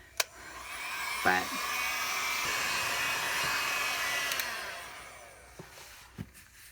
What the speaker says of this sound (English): I promise you I will edit this out so you won't have to hear all of my heat gun.